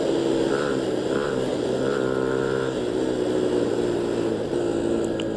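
Economy-class motorcycle engine running steadily at idle, a continuous loud low throb with a rough mechanical texture and no speech over it.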